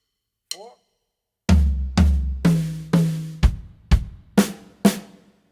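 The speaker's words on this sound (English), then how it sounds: "let's say I want to skip the mid tom," Tom-based drum fill on a kit with fixed bass drums, skipping the mid tom: a brief voice sound, then eight steady hits moving from low full toms to higher, snappier strikes, close and dry.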